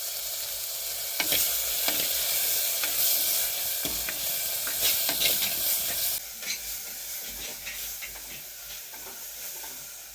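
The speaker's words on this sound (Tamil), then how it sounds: "பீட்ரூட் தக்காளி நல்லா வதங்கட்டும்" Onion, tomato and beetroot sauté in a pan, a steady close hiss and sizzle broken by stirring scrapes, easing slightly after a few seconds but continuing to the end.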